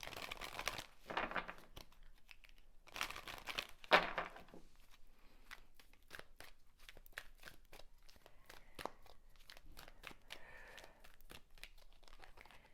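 Oracle cards are handled and shuffled close by, with papery crinkling bursts at the start, then softer scattered rustles and taps throughout.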